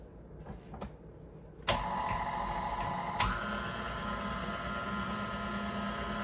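A stand mixer with pizza dough for a Detroit-style pepperoni pizza: a few soft clicks, then the motor kicks on abruptly into a steady, fairly loud whir, with a brief knock partway through.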